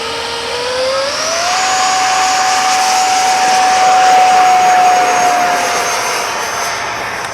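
A JHH A-7 Corsair model jet on its takeoff run, its turbine whine rising in pitch then holding a loud, steady high-pitched roar with a broad rushing hiss, close and continuous throughout.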